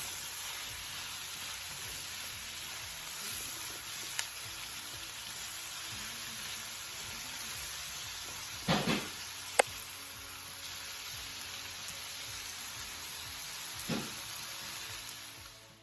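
Jerk shrimp and bell peppers sizzle steadily in a hot pan, a constant close hiss with a few short scraping stirs and a sharp clink near the middle, no voices.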